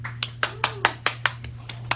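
A small comedy-show audience claps in a sparse, uneven patter of distinct hand claps, roughly ten sharp slaps over two seconds, close and fairly quiet, with a steady low hum underneath.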